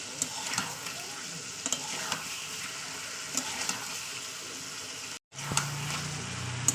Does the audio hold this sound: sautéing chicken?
yes